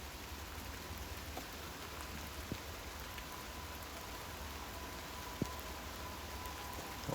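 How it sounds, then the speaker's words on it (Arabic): Steady summer rain falls at night as an even, soft hiss of drops on surfaces, with a few faint isolated drips and no voices. "اليوم زخ مطر"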